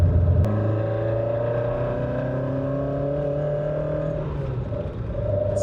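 A Toyota Corolla AE86 engine roars loudly from close by, a steady high-revving drone whose pitch sags slightly and then holds, with a sharp click near the start and no voices.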